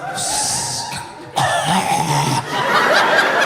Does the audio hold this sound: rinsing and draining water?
no